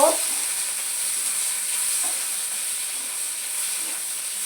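Chopped onion and four split green chillies fry in oil in a pan, giving a loud, continuous sizzle with a steady hiss that holds for the whole stretch, with no voices.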